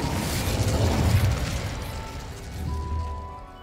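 A fire spell cast in the wizarding game Hogwarts Legacy: a loud, roaring burst of flame that sustains for over a second, then fades into a softer crackling tail with a faint tonal hum.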